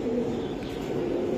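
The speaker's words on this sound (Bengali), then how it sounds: "এটা সবুজ গলা কবুতর, বর্ডার আলা।" A green-necked pigeon coos nearby, a low, soft, rolling murmur held steadily through the short moment with faint background noise.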